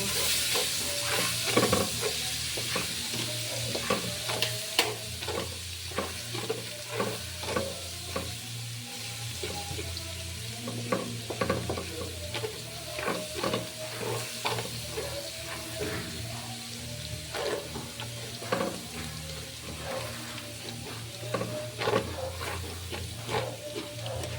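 Garlic sautéing in a pan while cooking potato chicken with mushrooms, a steady close sizzle broken by frequent clinks and scrapes of stirring throughout, with no talk.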